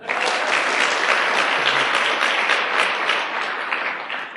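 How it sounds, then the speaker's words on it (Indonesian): Seminar audience applauding in a dense, steady wave of clapping that fills the room at close range, holding strong throughout with no voices standing out. "Aplaus buat Anda semuanya"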